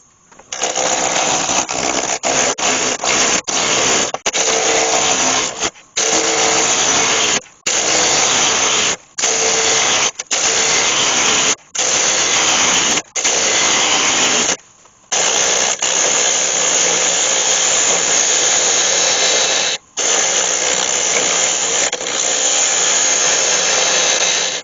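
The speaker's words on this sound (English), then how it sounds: "Let's get and turn some wood." Wood turning on a lathe: a loud, steady roar of the tool cutting spinning wood, broken by rapid regular dropouts early on as the edge catches the uneven corners, then running smoother and continuous.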